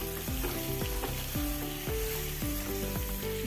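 Blanched mango pieces hitting hot spiced oil with ground masala and chili for a pickle, a loud, steady sizzle and crackle throughout, with stirring scrapes recurring over it.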